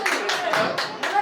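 A small audience claps for a prize winner at a family gathering, with a few uneven bursts of applause and people talking over them.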